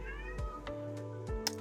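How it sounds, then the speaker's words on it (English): A house cat meows softly indoors, giving a few short, drawn-out meows over a steady low background hum, with no one speaking. "Excuse my cat for meowing like that."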